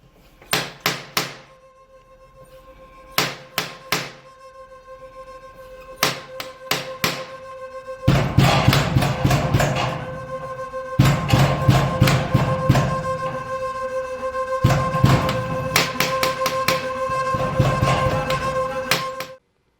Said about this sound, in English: add the sound of the actual knocking and some music in